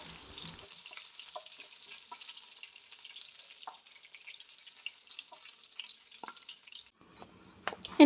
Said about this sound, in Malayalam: ഇനി ഈ ബാക്കി വന്ന നെയ്യിലേക്ക് ഞാൻ രണ്ട് തണ്ട് കറിവേപ്പില ഇട്ട് കൊടുക്കുന്നുണ്ട്. അപ്പോൾ ഇതൊന്ന് നന്നായിട്ട് പൊരിച്ചെടുക്കണം.